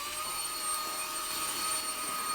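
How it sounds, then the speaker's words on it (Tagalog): A wireless vacuum cleaner runs steadily on its own, giving a continuous, fairly quiet high-pitched motor whine and airflow hiss with no voices. "Next free item natin guys sa itong wireless vacuum cleaner."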